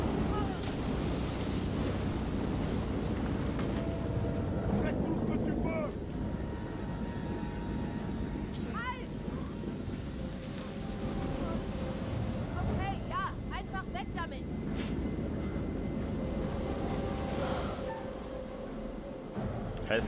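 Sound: storm wind and ocean waves in video game Man of Medan

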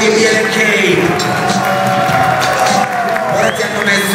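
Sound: audience applause at a freestyle rap battle

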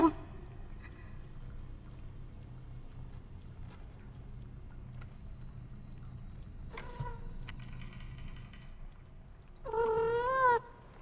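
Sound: cat meowing

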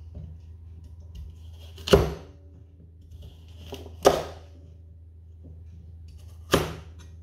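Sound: finely chopping carrots with a knife

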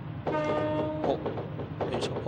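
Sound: 209 series train passing in Plarail train video game

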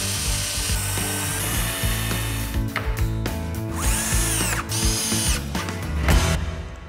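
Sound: power drill pre-drilling holes

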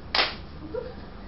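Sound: hand clapping

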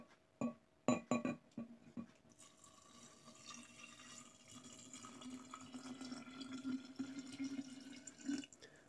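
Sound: pouring homemade kvass liquid into a jar

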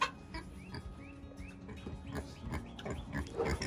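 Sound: pig grunting

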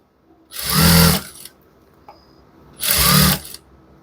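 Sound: sewing machine stitching a shirt hem

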